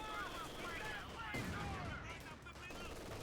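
Faint distant gunfire in the World War II strategy game Company of Heroes 2, a low continuous rattle of shots under battlefield ambience with a voice speaking over it.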